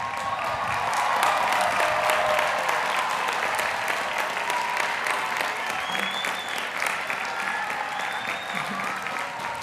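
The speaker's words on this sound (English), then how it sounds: "Graduates, please stand and applaud your family and friends who supported you during your time" Master's graduates at a Johns Hopkins Krieger School graduation ceremony stand and applaud their families and friends, a large hall full of sustained clapping with faint cheers, full at first and easing slightly toward the end.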